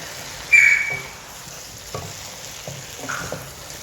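Okra masala sizzles steadily in a pan while a spoon stirs it, giving several soft scraping knocks over the frying hiss; a loud hissing spurt comes near the start, with no talking.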